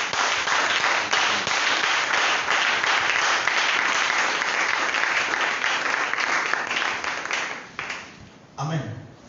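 A church congregation bursts into applause and cheering for the Lord, dense clapping with voices that stays loud and steady, then thins out near the end, where a single voice speaks over the fading claps.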